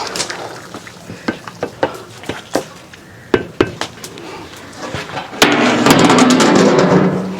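A large pot of nombu kanji rice gruel is stirred with sharp intermittent scraping knocks against the metal, close by, then a dense steady bubbling, scraping wash takes over for the last couple of seconds.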